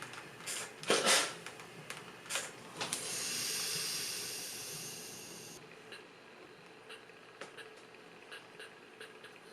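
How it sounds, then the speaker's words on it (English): A steam iron hisses onto wool fabric pinned taut for a hand-sewn bound buttonhole, a long soft burst of steam after a few short puffs and handling clicks, fairly quiet and close. "So I'm anchoring the material at various points, pulling it taut, and then steaming it."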